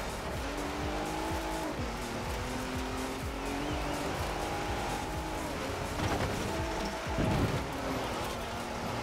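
A Ford Raptor drives in the racing video game Forza Horizon 4, its engine droning and shifting pitch with repeated tire squeals and skids, loud and continuous over the whole stretch.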